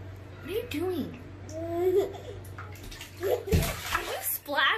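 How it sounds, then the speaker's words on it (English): A baby babbles and slaps at bathwater, with splashes and sloshing bursts, while an adult speaks nearby over a low hum. "Are you splashing me?"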